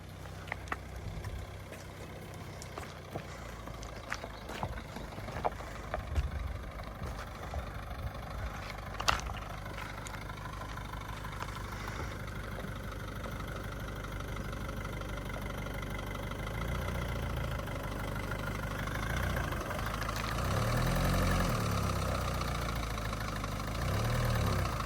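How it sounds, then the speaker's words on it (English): Idling engine of a T4 camper van off-roading, a steady low rumble with occasional sharp exhaust pops and knocks, building to louder revving near the end. "But that's where my exhaust is popping."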